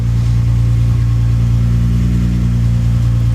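A Datsun 280Z engine, freshly retrofitted with FAST EZ-EFI fuel injection, idles steadily, giving a loud, close, continuous low rumble with an even pulsing rhythm and no voices.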